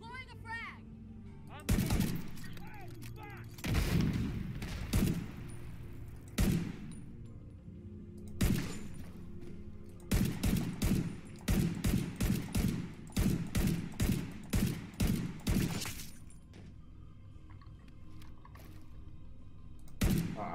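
Rapid gunfire and a deployed frag grenade in the shooter The Division 2, loud repeated shots in quick bursts with heavy thumping impacts, fairly close, under some speech.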